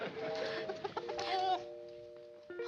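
A small bantam rooster clucks and makes short throaty calls close by, with a few higher chirpy notes, in a sitcom scene.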